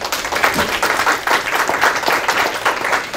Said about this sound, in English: give a round of applause to EY